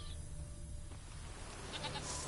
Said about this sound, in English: Where's that bleating sheep coming from?